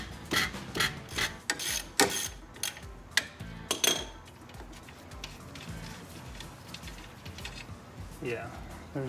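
A ratcheting wrench loosens the ball joint nut on a 1999 Porsche Boxster during shock replacement, producing quick clicking ratchet bursts and metallic clanks close by, with someone talking between them.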